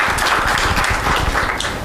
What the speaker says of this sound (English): It's a big round of applause for the insurance alerts.